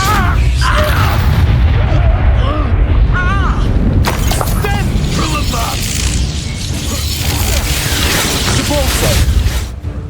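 Fire spell explosions cast in the video game Hogwarts Legacy, loud booming blasts and crackling bursts in quick succession, dense and continuous, with a voice shouting spell names over them.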